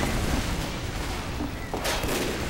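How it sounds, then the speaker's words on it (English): Gunfire in Team Fortress 2 on the Hightower map cracks in a dense, continuous barrage with booming bursts, loud throughout, and a sharp burst near the end. "Somebody's shooting me."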